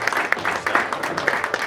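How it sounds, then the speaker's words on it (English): An audience at a realtors' association gathering claps in a brief burst of applause, steady overlapping hand claps from a room of people. "Let's give her a round of applause."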